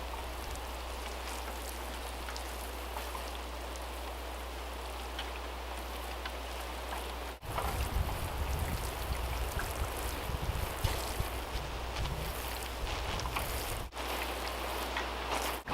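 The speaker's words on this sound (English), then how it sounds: "I'm going to get my watering can, give it a quick water, because this is pretty dry" Water poured from a watering can onto a dry, freshly planted garlic bed on a small-scale farm, a steady close splashing patter that grows heavier partway through, with no talking.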